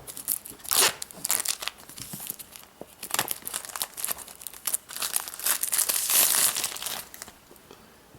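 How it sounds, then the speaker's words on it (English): Plastic wrap being peeled and crinkled off an iPhone 4S box, close-up irregular crackling and tearing rustles in bursts, growing louder toward the end. "let's just get this plastic off."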